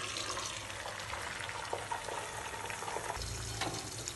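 Beaten eggs poured into hot oil in a wok, giving a steady, close sizzling and crackling fry with no voices.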